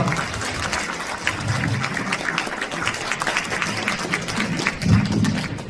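Applause from an audience at a Korean lawmaker's constituency report meeting, greeting the next speaker with steady clapping that fills the clip and swells briefly near the end.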